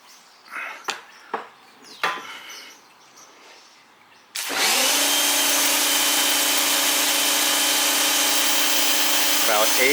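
A pressure washer fitted with a 40-degree factory nozzle with a 3.7 mm orifice cuts in abruptly after some faint knocks and runs as a loud, steady, close hiss and hum through to the end.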